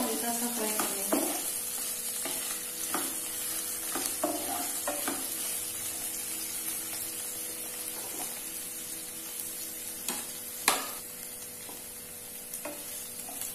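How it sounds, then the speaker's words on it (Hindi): Onions lightly frying with whole spices in a pan, a steady close sizzle broken by repeated scraping stirs of a spoon, moderately quiet. "इसमें प्याज डालेंगे, प्याज को हल्का सा फ्राई करेंगे।"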